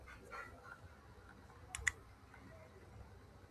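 Two quick, sharp clicks from a computer mouse sound close together in a quiet room, one faint and one slightly louder, against a low steady background hum.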